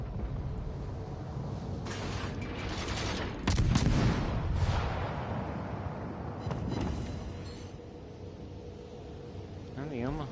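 Armor-piercing shells fired from the Omaha cruiser in World of Warships: Legends, heard as bursts of naval gunfire and distant booms mixed into dense game noise with a speaking voice over the top.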